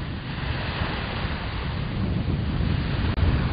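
Beach waves wash in on the Andaman Islands, a continuous rushing surf roar mixed with wind buffeting the microphone, steady and fairly loud with no voices.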